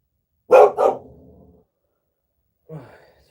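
A dog barks twice in quick succession close by, then gives a shorter, softer bark a couple of seconds later, with silence in between and no talking.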